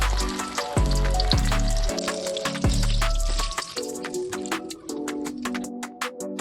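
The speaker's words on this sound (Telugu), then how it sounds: "వేసిన తర్వాత మీడియం ఫ్లేమ్లోనే వేయిస్తూ ఉండండి" Stuffed chilli bajjis sizzle and crackle in hot oil on a medium flame, a close bubbling fry with scattered pops and spits.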